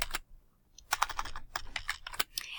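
Keys clack on a computer keyboard in a quick, uneven run of crisp taps, close and fairly quiet, with a short pause early on and no talking.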